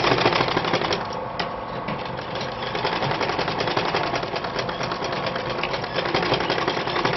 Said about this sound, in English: So you can see I'm top stitching it.